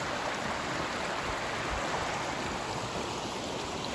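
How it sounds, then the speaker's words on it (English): A creek winds through a 12-acre mountain property, its water flowing in a steady, broadband rush that stays close and constant throughout, with no voices over it. "the creek runs along our property for 12 acres. It's a real nice stream."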